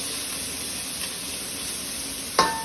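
Prawns sizzle steadily in olive oil in a frying pan, a continuous hiss with a sharp clatter near the end.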